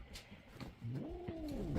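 An angry cat lets out a short rising and falling yowl lasting about a second, close and fairly loud, in a home shared with dogs, foxes and a jackal.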